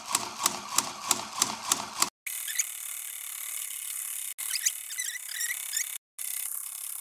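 Sewing machine stitching a boardshorts hem, a fast rhythmic mechanical clatter for two seconds, then quieter squeaky fabric and mechanism sounds broken by short dropouts.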